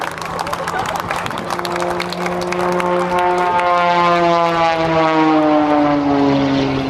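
An aerobatic propeller airplane performs a tumbling centrifuge maneuver at an airshow. The loud engine drone climbs and falls in pitch as the plane passes, while an announcer talks over the sound.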